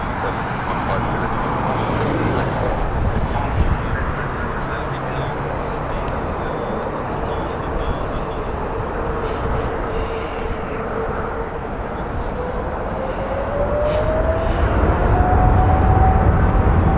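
A steady, loud roar from an airliner on a Warsaw flight at Heathrow Airport, spread broadly and continuous, with a faint rising whine, swelling slightly toward the end; a voice talks over it.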